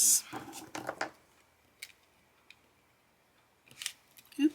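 Scissors snip through peel-off sticker sheets for card making, a few short, separate cuts amid quiet gaps, close and fairly faint.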